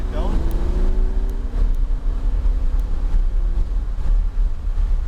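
Lamborghini engine under throttle on a race track at high speed: a loud, steady low roar with wind rush and a rising tone early on, close and continuous.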